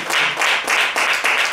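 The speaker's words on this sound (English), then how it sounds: "Clap your hands." A church congregation claps hands together in a steady rhythmic beat, several loud unison pulses roughly every few tenths of a second, close and full.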